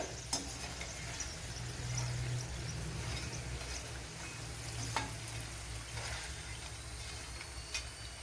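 Jackfruit pieces fry in oil with a continuous, fairly quiet hiss and sizzle, broken by a few sharp pops and crackles.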